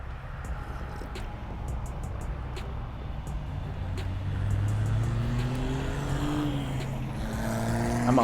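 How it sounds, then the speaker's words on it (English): Trucks driving past outdoors, a heavy engine rumble that grows louder toward the end as motors rev and whine through gear changes, steady traffic noise with no voices. "I'm outside and there's trucks going by and raising all kinds of hell"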